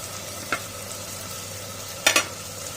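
Onions sautéing in a pan on the way to browning for chicken thokku, a steady low sizzle with a spatula scraping once, then two quick close stirring scrapes later.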